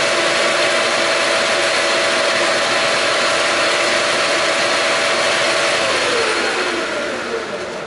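Steady machining whine from a lathe taking a light spin cut on a metal Jeep toolbox handle, continuous and close, with a faint tone that drifts and fades near the end.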